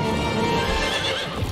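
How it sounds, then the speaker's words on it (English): Horses in the LEGO Lord of the Rings video game neigh and whinny loudly and continuously, layered with hoof clip-clop and game ambience, with no talking. "May these horses bear you to better fortune than our former masters."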